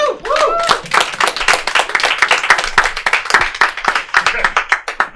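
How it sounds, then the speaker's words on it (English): Audience applause and clapping at a live comedy show in a bar club, loud and continuous with dense hand claps across the whole stretch, a few cheers rising at the start as a comedian is introduced. "give a round of applause for Niah Johnson"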